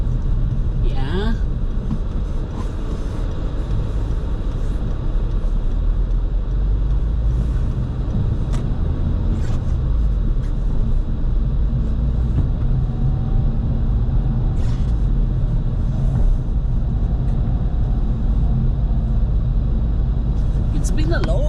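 Car being driven on the road, a loud constant engine and road rumble lasting throughout with occasional clunks, as a person talks over it.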